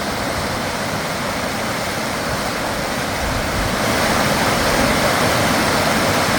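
The Klamath River flowing near where Fall Creek joins it, a steady broadband rush of moving water with wind, continuous and fairly loud throughout, swelling slightly in the second half.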